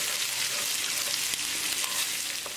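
Ginger and garlic sizzle in a pan while fish is being prepared, a continuous loud, close hiss of hot oil with no pauses and no voices.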